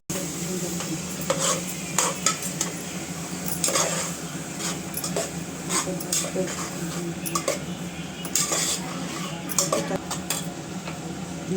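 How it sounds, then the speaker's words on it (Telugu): Onions being stirred in a cooking pan with repeated scraping and clinking strokes over a steady background sizzle, close and moderately loud throughout. "ఉల్లిపాయలు వేసుకున్న తర్వాత కలుపుకోవాలి."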